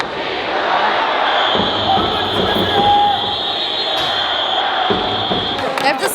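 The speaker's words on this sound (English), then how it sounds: "the people cheering are cheering so hard" Fans at a Korean baseball game in Seoul cheer hard over a noisy stadium din, with sharp bursts and thumps rising from the crowd, alongside talk.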